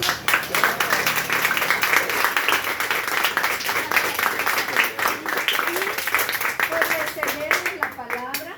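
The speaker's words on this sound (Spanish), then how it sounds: "le queremos dar una bienvenida pues con un fuerte aplauso" An audience gives a strong, sustained round of applause welcoming a teacher at a school gathering, dense clapping throughout with voices talking and calling out over it.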